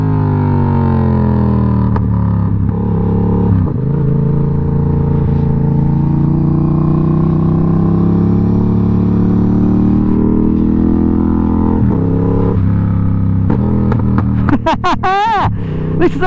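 A 2020 Yamaha MT07 motorcycle with its exhaust baffle removed, droning loudly and close at steady revs, dropping through downshifts with pitch shifts and ending in a brief burst of revving.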